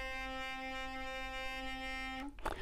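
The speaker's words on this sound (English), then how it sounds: "you could use the back of your toothbrush for vibration" An electric toothbrush held against something vibrates with a steady, buzzing drone for about two seconds before cutting off into a brief clatter of handling noise.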